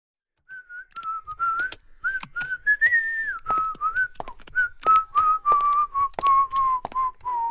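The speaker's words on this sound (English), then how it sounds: "What are you whistling? Oh, just something I made up." A person whistles a wandering melody alone, clear and close, with short gaps and soft clicks between phrases.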